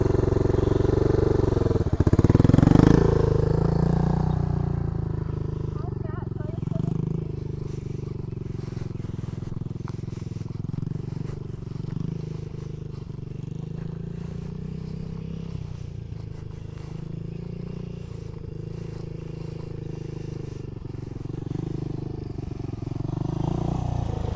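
A dirt bike ridden in first gear runs with a low, steady engine drone that swells briefly early on and then settles into an even hum, with light crackles and scrapes mixed in.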